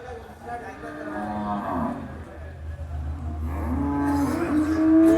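Cattle moo in long, drawn-out calls, loud and fairly close, overlapping one another at an outdoor cattle market amid crowd murmur and background noise.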